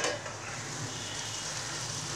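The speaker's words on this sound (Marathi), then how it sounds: "1 मिनिट कांदा, 1 मिनिट टॅमॅटो फ्राय करून घेऊ." Onion and tomato fry in a pan with a soft, steady sizzle, close and fairly quiet, with no voices over it.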